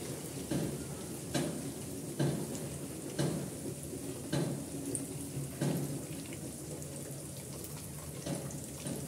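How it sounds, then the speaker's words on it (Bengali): Bread finger snacks fry golden in oil over medium-low heat, a steady soft sizzle broken by regular bursts roughly every second as the pieces are turned and stirred. "উল্টিয়ে পাল্টিয়ে নাস্তাগুলো আমি গোল্ডেন করে ভেজে নিচ্ছি"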